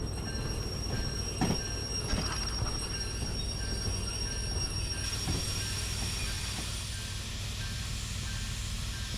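A locomotive running in the Derail Valley train game, with a steady, loud rumble of rolling wheels, occasional metallic clanks and squeals, and a sustained whistling tone through the middle.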